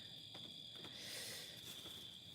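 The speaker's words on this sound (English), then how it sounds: "You're welcome to just stay and listen to the crickets." Crickets chirp in a steady, high-pitched drone that holds evenly throughout and swells slightly around the middle, with no voices and a faint, quiet background.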